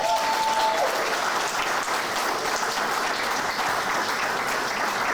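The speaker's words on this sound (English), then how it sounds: "Please give them a round of applause." An audience at a celebration and networking event applauds steadily, a dense wash of clapping that stays even for about five seconds with no voices heard over it.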